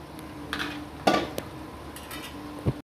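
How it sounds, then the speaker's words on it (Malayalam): Cooked mutton tipped into masala in a pot, with a few soft clinks and clatters of a spoon against metal and a brief wet plop near the end, close and fairly quiet. "ഇനി നമുക്ക് അതിലേക്ക് മട്ടൻ വേവിച്ച് വെച്ചത് ആഡ് ചെയ്ത് കൊടുക്കുക"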